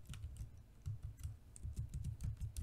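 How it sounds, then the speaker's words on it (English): Rapid keystrokes on a computer keyboard, close and clear, an uneven run of clicks with no talking. "let's just type in here swipe"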